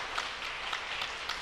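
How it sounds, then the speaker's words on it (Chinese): A church congregation at a Sunday worship service claps in welcome for a newcomer, a steady, dense patter of applause from a crowd indoors, sustained throughout without any talk. "来拍手欢迎他"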